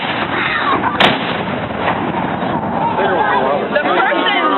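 A single cannon blast booms across an outdoor historical reenactment festival, a sharp loud report over steady crowd chatter that keeps murmuring before and after the shot.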